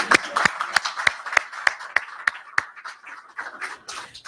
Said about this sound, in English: Yes, you can applaud that one.